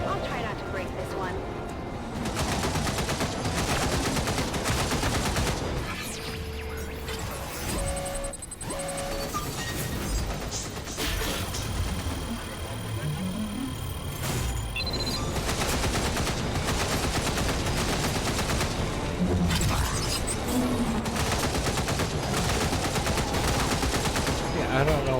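Dense, continuous gunfire in a video game, loud and sustained throughout, with automatic bursts layered over game effects and someone talking over it.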